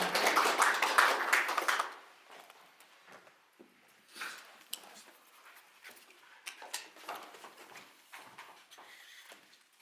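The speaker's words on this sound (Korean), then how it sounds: "다시 한번 박수 좀 부탁드리겠습니다." Applause from an audience at a Korean Information Security Society short lecture course on zero trust security, dense and fairly loud for about two seconds, then dying away into scattered quiet room noises.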